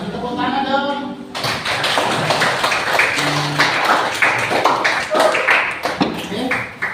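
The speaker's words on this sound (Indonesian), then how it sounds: "Kasih tepuk tangan dong." Students in a classroom break into applause, a dense run of claps with sharp taps and thumps that carries on for several seconds at moderate volume.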